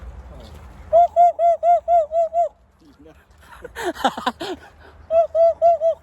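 A bird calls in a steady run of repeated cooing notes, breaks off for a burst of harsher squawks, then resumes the rhythmic calls up close.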